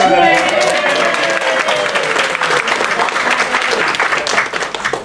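Applause from the audience at a real estate sales meeting, a dense steady clatter of many hands running loud throughout, with a voice speaking over the clapping early on.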